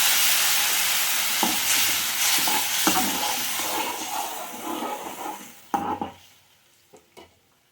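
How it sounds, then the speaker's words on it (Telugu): Steady bubbling and sizzling of tamarind sauce with turmeric boiling down in a pan, with a few sharp stirring clatters near the end as the sound thins out. "ఈ పులుసు బాగా గట్టిపడే వరకు మరిగించాలి"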